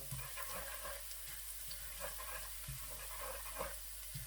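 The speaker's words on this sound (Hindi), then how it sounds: "और इस तरीके से बिल्कुल हल्की आंच पर लहसुन को हल्का हल्का सा" Garlic frying gently in a pan over a low flame, a soft continuous sizzle with intermittent stirring scrapes, fairly quiet and close, with no talking.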